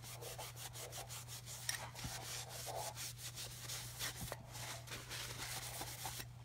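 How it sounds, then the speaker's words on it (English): A rubber stamp being wiped clean of ink, with steady close rubbing strokes repeating in a quick rhythm over a low constant hum and no talking. "So I'm just gonna wipe that off."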